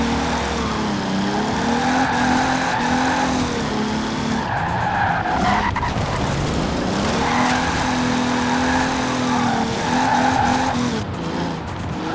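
A 1992 Toyota Supra 2.0 GT twin-turbo RWD drifting in the city in Forza Horizon 4, tires squealing loudly and continuously over a revving engine whose pitch rises and falls, with no talking.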